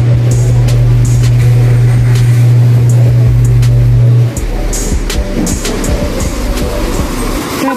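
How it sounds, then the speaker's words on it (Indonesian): Traffic on Sanmin Road in Baojhong, Yunlin, Taiwan, with a steady vehicle drone that cuts off midway, then scattered passing cars and light road noise, fairly loud and near. "Sudah 22 mobil yang lewat ya dalam waktu 6 menit"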